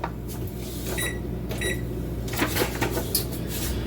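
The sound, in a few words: oven being turned on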